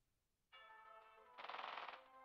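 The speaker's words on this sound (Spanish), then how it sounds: "¿Se agarraron a balazos o qué?" Video game gunfire erupts suddenly as rapid automatic bursts, growing denser and louder midway, then easing into a lingering tonal hum, faint overall and without talk.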